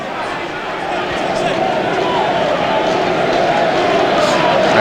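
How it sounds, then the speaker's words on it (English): Dense, steady roar of a large football stadium crowd at a 1995 West Ham versus Blackburn Rovers league match, a continuous broad wash of voices that swells slightly and holds loud throughout. "Accentuated by the crowd noise."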